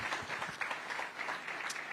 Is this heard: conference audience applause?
yes